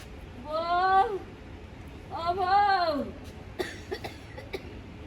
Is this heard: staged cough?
yes